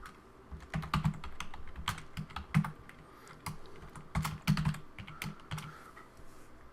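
Someone types in short, uneven bursts on a computer keyboard. The key clicks are close and crisp, with brief pauses between clusters, in a quiet room with no talking.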